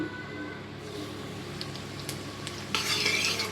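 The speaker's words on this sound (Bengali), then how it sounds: "কড়া গরম হয়ে গেছে এর মধ্যে দিয়ে দিচ্ছি সানফ্লাওয়ার তেল তেলের মধ্যে দিয়ে দেব জুয়াইন" Ajwain seeds dropped into hot sunflower oil in a pan, a steady sizzle with light utensil taps, rising to a brighter, louder spitting crackle toward the end.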